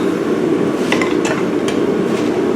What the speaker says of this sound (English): A couple extra whacks can't hurt